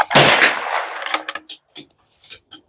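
A single loud, sharp rifle shot from a Tikka T1x in .17 HMR firing CCI A17 ammunition, a sudden crack with a short ringing decay that fades within about a second into quiet.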